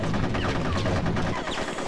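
Rapid gunfire in the Conker's Bad Fur Day war level, a steady dense burst of shots running almost two seconds at close range, with no voices over it.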